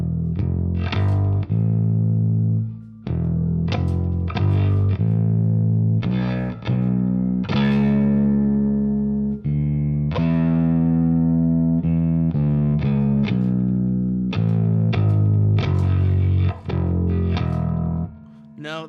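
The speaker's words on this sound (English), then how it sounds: "that's probably what you're hearing is a scale shape" Electric guitar through a distortion effect runs through a scale shape, a dense, continuous stream of driven notes and quick changes for nearly twenty seconds, loud and close with no voices.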